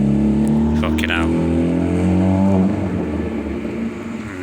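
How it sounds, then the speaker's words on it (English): A Ford Fiesta engine revs with a loud, harmonic drone that climbs in pitch, then drops away and fades, close by. "Noisy cars. Ford Fiesta."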